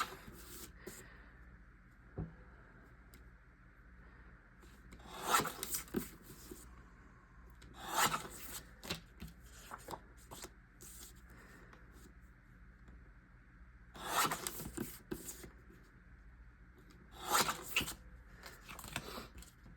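Paper photos are trimmed to 3.5 inches wide for a scrapbook layout, giving several short, crisp cutting and rubbing strokes spaced apart against a quiet room background.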